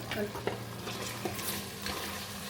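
Chili powder being stirred into a haleem mixture in a pan, a soft scraping and stirring sound over a low sizzle, fairly quiet and steady, with a couple of small clicks from the utensil.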